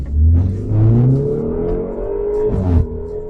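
Engine of a boring everyday car accelerating hard, its exhaust giving a rising, wavering tone that climbs in pitch twice with a brief dip between, loud and close with no talk.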